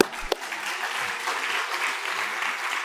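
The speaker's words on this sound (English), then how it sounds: "We can clap for that." Audience applause at a low-carb nutrition conference in Houston, a steady, full wash of clapping from a seated crowd that holds evenly for about three seconds, with one sharp nearby clap standing out early.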